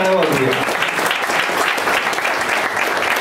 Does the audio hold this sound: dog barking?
no